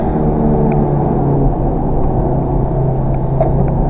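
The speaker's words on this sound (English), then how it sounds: "Spinning all four wheels. Traction control off." A 2016 Audi TT TFSI Roadster with a 6-speed manual spins all four wheels with traction control off, giving a steady, loud engine rumble and drone heard from inside the car, with no talking.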